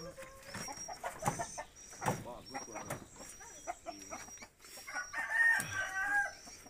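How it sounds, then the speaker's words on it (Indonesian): Several chickens at an Indonesian poultry-keeping community crow and cluck at moderate distance, with a rooster's crow rising near the end, while someone talks over them. "Banyak ayam ini guys"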